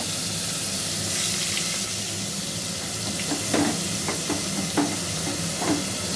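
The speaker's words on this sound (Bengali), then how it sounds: "তেলটা গরম হয়ে গেছে মশলাটা দিয়ে সুন্দর গন্ধ বেরিয়েছে এবার আমি পেঁয়াজটা দিয়ে দিই" Onions fry in hot oil with spices in a pan, producing a continuous soft sizzle with occasional light taps and stirring scrapes toward the end.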